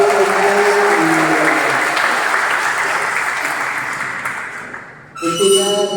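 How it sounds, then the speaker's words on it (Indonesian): A crowd claps steadily for several seconds; the applause fades slightly toward the end before a voice briefly speaks over it. "Tepuk tangan dong buat"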